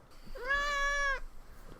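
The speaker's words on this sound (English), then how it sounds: "one of my kitty cats has decided to join us and has decided to put her vocals into the video" A house cat lets out a single clear, drawn-out meow close by, lasting about a second in an otherwise quiet room.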